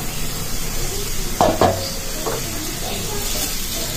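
Potatoes fry in a pan under a steady, dense sizzle, with a couple of brief sharp clatters near the middle as the pieces are turned.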